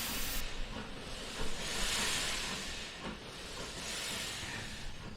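Broad hissing bursts of steam swell and fade in slow surges, like a steam locomotive chuffing as it moves off, with no voices.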